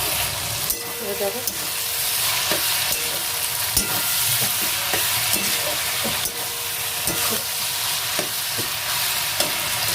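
Chili chicken ingredients sizzling in a pan in a home kitchen, with a constant frying hiss and repeated scraping and clinking as they are stirred, and a short spoken word early on.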